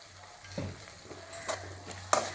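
Gobi manchurian (cauliflower) stir-fried in a pan with soy sauce and tomato sauce, giving a low steady sizzle broken by a few sharp spatula scrapes and clacks, close and fairly quiet.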